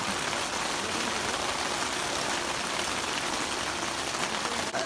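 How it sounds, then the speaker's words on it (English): Heavy rain pounding outside a tent at a campsite, a dense, steady hiss of drops at even loudness throughout, with no voices. "it's currently raining outside right now, and it's raining hard"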